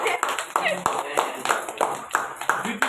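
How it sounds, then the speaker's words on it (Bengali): Hand clapping at an anniversary celebration, a series of sharp separate claps at a fairly steady rhythm, close and moderately loud, with a voice talking over it. "হাততালি।"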